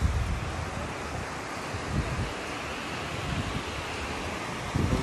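Sea waves wash in steadily at a beach while wind buffets the microphone, a dense, continuous roar with slight swells and a louder gust near the end.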